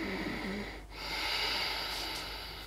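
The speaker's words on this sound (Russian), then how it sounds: "дыхание, оно называется уджайи или горловое" Ujjayi throat breathing from a yoga practice, a hissing, slightly raspy breath drawn through a narrowed throat, heard close and continuous with a brief dip between two long strokes.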